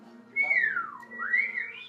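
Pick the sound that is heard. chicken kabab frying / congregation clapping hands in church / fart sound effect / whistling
whistling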